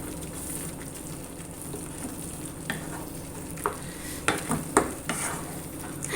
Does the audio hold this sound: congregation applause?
no